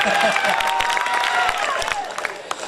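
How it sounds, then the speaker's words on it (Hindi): A mushaira audience claps loudly for a poet, a dense burst of applause with a few cheers, under a voice talking over the crowd. "जोरदार ताली इनके लिए बजा दीजिए आप"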